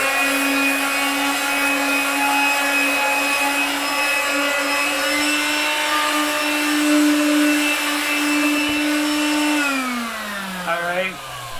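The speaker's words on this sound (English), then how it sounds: "the next process is sanding" A loud continuous whirring power sander drone on wood, steady and close, winding down near the end as the motor spins to a stop.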